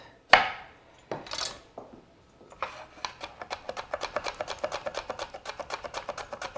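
Radishes are sliced with a knife on a cutting board: a few separate cuts, then a quick, steady run of close, crisp chopping taps, with no one talking.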